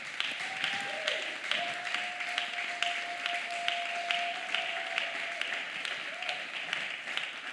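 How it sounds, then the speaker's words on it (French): A church congregation applauds in sustained, dense clapping for several seconds, with a held tone sounding over the crowd. "On acclame le Seigneur pour sa parole."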